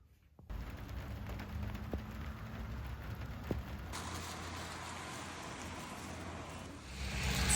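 Steady rain falling outdoors during a road walk on day two off the Pacific Crest Trail, a continuous broadband hiss that begins abruptly and holds evenly throughout, with a brief thump midway and no voices.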